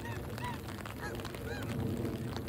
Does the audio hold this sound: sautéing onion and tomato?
no